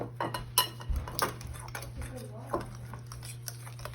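Popover batter being mixed with flour in a bowl, with a handful of sharp clinks and scrapes of a utensil against the bowl spaced irregularly over a low steady hum, faint and close.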